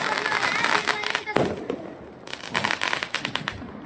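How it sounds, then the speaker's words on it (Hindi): Diwali fireworks and firecrackers set off from a rooftop, a run of sharp crackling bursts and pops, with a louder bang near the middle, while voices talk over them. "उसके बाद हम लोग छत पे आ गए आतिशबाजी करने के लिए।"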